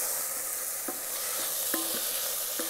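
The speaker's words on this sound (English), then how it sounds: "Fry this until the tomato becomes soft." Diced tomatoes fry in a pan with garlic, minced ginger and cilantro for a tilapia fish curry, giving a steady close sizzle broken by a few soft stirring scrapes.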